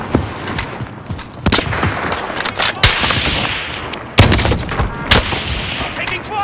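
Bursts of gunfire in the video game Call of Duty: Modern Warfare, loud cracking shots and rapid volleys in irregular clusters, with a heavy boom partway through.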